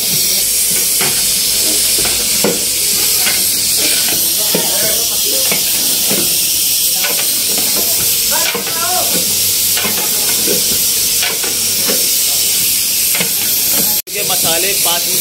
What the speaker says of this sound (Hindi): अब इसको प्रॉपरली मिक्स किया जा रहा है।